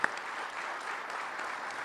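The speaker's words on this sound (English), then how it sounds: "Let's give him a round of applause for being with us today." An audience at an anniversary gathering in a New York hotel gives a round of applause for a priest, a brief steady patter of many hands clapping at moderate distance.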